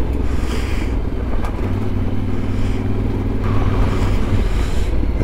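A Yamaha Ténéré 700 World Raid motorcycle rides offroad at the foot of the Jura, its engine droning loudly and steadily with rumbling shifts in pitch and wind buffeting throughout.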